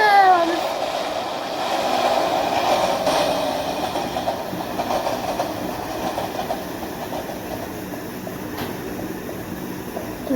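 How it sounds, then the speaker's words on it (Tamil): A video game train rumbles past with a rhythmic clatter that starts louder and gradually fades as it moves away. "ஒரு ட்ரெயின்"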